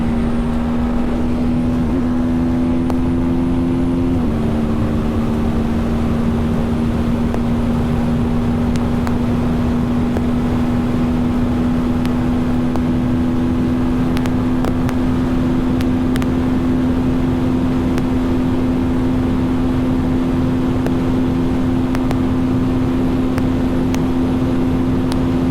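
A TVS Apache RTR 310 motorcycle engine drones loud and steady while riding at speed, holding a sustained, slightly shifting hum with rushing wind and road noise throughout.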